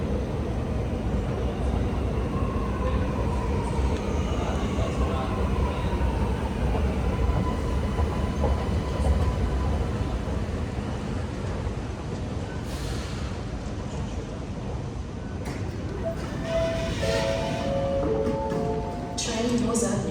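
A Sydney Metro train at a station platform gives a steady, loud rumble across the whole stretch, with faint higher whines and tones rising toward the end as it moves or settles nearby.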